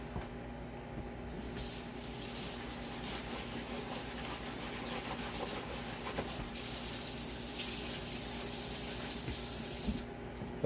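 Steady water runs from a tap into a sink during a bubble hash wash, a continuous even hiss and splash lasting throughout with no pauses.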